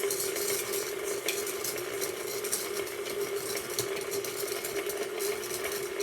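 Food being stirred and mixed in a hot pan with a spatula, a steady scraping and sizzling texture that runs continuously and evenly throughout, with no voices.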